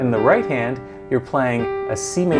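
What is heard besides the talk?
No everyday noise stands out behind the speech.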